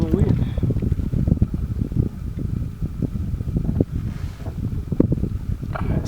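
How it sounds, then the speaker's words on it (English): Wind buffets a microphone aboard a boat in a shallow cove, a loud, steady low rumble with gusty swells that fill the whole stretch, close and dominant, with faint hints of a voice underneath. "We're getting a little wind."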